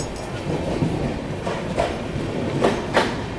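The 12487 Jogbani–Anand Vihar Seemanchal Express rolls through Ara Junction without stopping, heard from on board as a steady rumble with a few rhythmic wheel clacks over rail joints, continuous and fairly loud.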